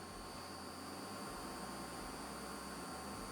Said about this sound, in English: this machine in Sylvan City,